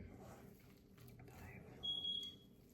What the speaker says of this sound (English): That'll be the timer.